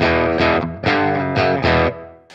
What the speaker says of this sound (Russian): Давайте послушаем теперь дисторшн.